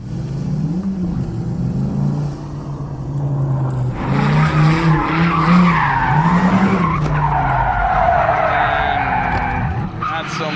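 A Dodge Hellcat skidding and revving in a thrash battle, tire squeal and a roaring engine rising and falling at close range, with people talking over it.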